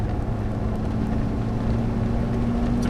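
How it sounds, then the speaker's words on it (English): Four-cylinder engine of a 1990 Nissan Axxess running steadily, a continuous low droning hum with a constant pitch, loud and close, no speech. "the screaming power of this 4-cylinder engine"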